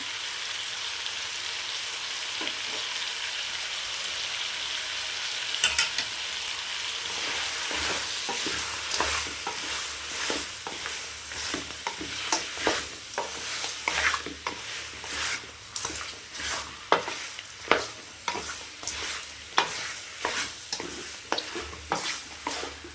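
Goat head curry with turmeric frying in a pan: a steady hiss of sizzling oil at first, then increasingly rapid, vigorous stirring strokes and scrapes that grow louder and more rhythmic over the sizzle.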